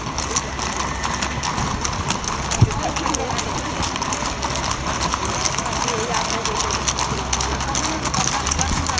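Horses' hooves clip-clopping during a guard-changing rehearsal at a Royal Palace, a steady rhythmic clatter on hard ground that sounds fairly close and prominent, with crowd voices murmuring underneath.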